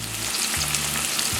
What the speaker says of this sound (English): we're going to fry it in the frying pan.